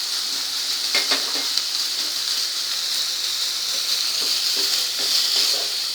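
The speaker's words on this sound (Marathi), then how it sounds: "कांदा छान असा गुलाबी रंग येईपर्यंत तेलात भाजून घ्यायचा आहे." Chopped onion sizzles steadily in hot oil in a pan while being cooked down for a radish (mooli) bhaji, a continuous close frying hiss with small crackles and occasional stirring clicks, no talking.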